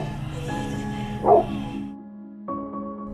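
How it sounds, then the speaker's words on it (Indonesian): A dog gives a single short bark amid background music during a festival, followed by quieter sustained tones. "Ya namanya juga anjing, jadi dia cuma bisa ngegonggong aja."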